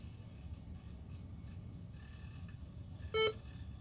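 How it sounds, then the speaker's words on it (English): A single short electronic PC beep from a 1998 IBM ThinkPad 380XD laptop, brief and clear, sounding once against a steady low hum of background noise. "I got a PC beep out of the"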